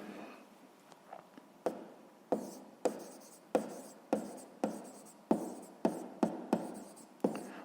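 A pen writes on paper while working through a sixth-grade math exercise, giving a series of soft scratching strokes with sharp taps at each new mark. The strokes come in an irregular rhythm, close and quiet, with no talking.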